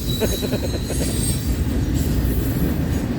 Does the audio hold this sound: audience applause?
no